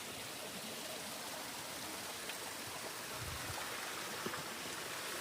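Creek water flows steadily over rocks at the South Yuba River headwaters, a continuous broadband rushing and gurgling close by, with a few brief splashes and no voices.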